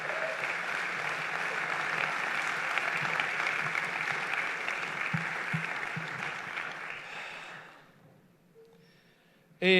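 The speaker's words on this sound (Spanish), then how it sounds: "Denle un aplauso al Señor" A church congregation breaks into sustained, loud applause for about seven seconds, then it fades to near silence with a faint voice stirring at the end.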